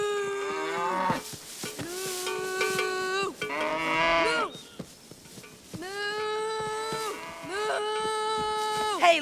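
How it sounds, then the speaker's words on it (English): Cows in an audio drama let out several long, drawn-out moos, loud and close, one after another with short breaks between them and a few brief voices around them. "Hey, leave them cows alone."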